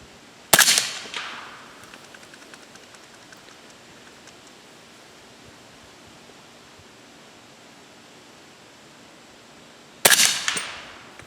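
Two loud, close 300 Blackout rifle shots from polyfill-loaded handloads, spaced about ten seconds apart, each with a sharp crack and a short decaying tail over quiet outdoor background.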